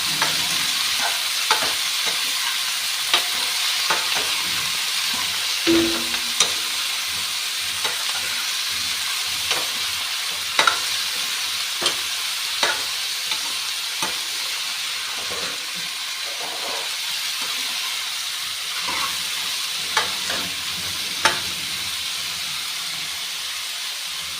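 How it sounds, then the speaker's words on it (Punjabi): Potatoes and onions frying in a pan for a bell pepper sabzi, stirred with a spoon: a steady loud sizzle and hiss with repeated scraping clicks of the spoon throughout. "ਪਿਆਜ਼ਾਂ ਦੇ ਵਿੱਚ ਆਲੂ ਨੂੰ ਚੰਗੀ ਤਰ੍ਹਾਂ ਕਰ ਦਾਂਗੇ ਮਿਕਸ"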